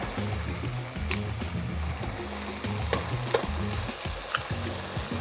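A couple of eggs cracked into a hot pan beside pad thai noodles fry with a loud, constant sizzle, broken by occasional pops and the scraping of a utensil nearby.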